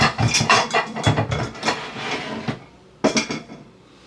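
A store-bought pre-made crust in a quiche pan is handled in a kitchen with a run of clattering metallic knocks and clunks, a pause, then a final sharp clank.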